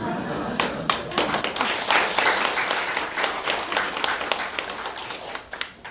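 An audience applauds a priest speaking at a Catholic winter workshop lecture: sustained, dense clapping from many hands, fairly close and loud, that gradually thins out and fades over about six seconds.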